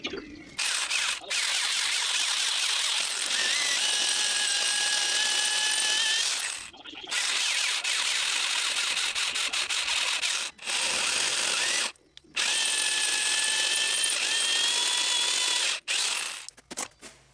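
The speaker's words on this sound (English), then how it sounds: "So I'm going to drill those out" A drill whines in long, steady bursts, pausing briefly between runs, with a high tonal squeal as the bit cuts holes in a metal tube nearby.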